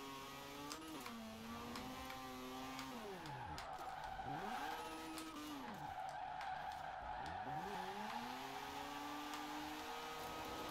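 In the Forza Horizon 4 video game, a Mazda RX7 Spirit spins a donut, its tires squealing in long sweeping arcs that rise and fall over a continuous engine drone, loud and close.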